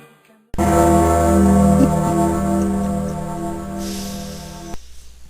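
A single loud bell tolls at Christmastime, a deep, resonant, ringing tone that sustains for several seconds and then cuts off, with no talk over it.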